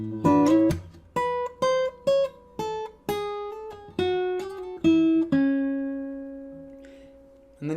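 Acoustic guitar plays a short fingerstyle passage from a piece: a run of clear plucked notes in a quick, uneven rhythm, ending on a long ringing note that slowly fades.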